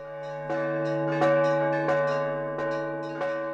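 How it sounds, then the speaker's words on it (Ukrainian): A historic church bell at St. George's Cathedral in Lviv, cast in 1341, rings in a steady series of about six rich, sustained strikes, each new stroke sounding over the lingering hum of the last. "Дзвін, який з 1341 року дзвонив на прославу князів зберігся до наших днів."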